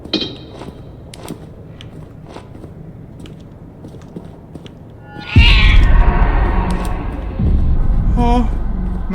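A cat meows in the horror game Order 13, set in a haunted warehouse. Faint clicks and taps come first, then a louder rumbling bed with a short, close meow near the end.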